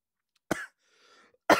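Two sharp, loud coughs about a second apart, each a short harsh burst, with faint breathy noise between them and no talking.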